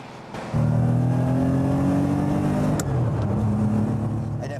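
A customised Porsche 911 G-series rally car drives along, its engine droning at a steady, close, loud pitch that dips briefly as it shifts gear midway and then holds a lower note.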